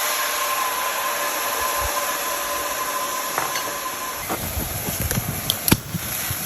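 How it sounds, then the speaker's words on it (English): Madeira wine hits a hot pan to deglaze it, throwing up a steady, loud hiss that carries through, with a few small clinks and knocks near the end. "we are going to put in our Madeira wine to deglaze our pan"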